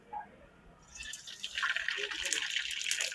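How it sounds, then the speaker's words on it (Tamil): Mustard seeds crackle and splutter in hot oil in a pan while cooking a vegetable poriyal, a dense high-pitched spattering that starts after a quiet moment and builds to a steady close sizzle. "கடுகு பொரிஞ்சிச்சு."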